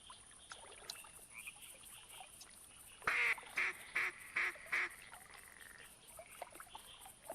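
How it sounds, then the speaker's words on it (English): A mallard duck call in theHunter Classic hunting game sounds as a run of five loud, evenly spaced quacks over a steady background hiss, with quieter ambient noise before and after. "What's your typical duck sound? Mallard."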